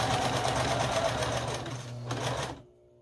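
Sewing machine stitching strips of fabric for a scrappy string quilt, a close steady mechanical whir running for over two seconds, slowing briefly, then stopping into near silence.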